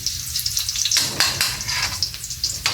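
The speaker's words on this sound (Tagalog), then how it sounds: "after natin mailagay yung bawang, pag na-brown na siya" Garlic fries in a pan while adobong sitaw is being cooked, giving a loud, steady sizzle with crackling pops and a few sharper bursts, like oil spitting or the garlic being stirred.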